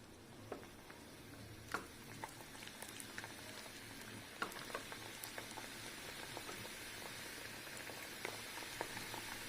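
Baby croissants frying in oil heated well and kept on a medium flame, a soft continuous sizzle with scattered small pops and crackles, faint and close.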